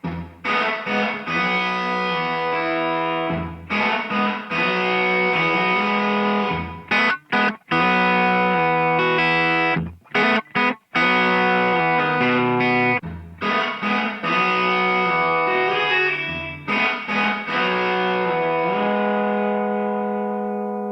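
Guitar played through a reverb set fully wet, a continuous washed-out wall of sustained chords with long smeared tails, loud and dense, briefly dropping out a few times before swelling back, no talking.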